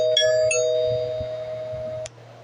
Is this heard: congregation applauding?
no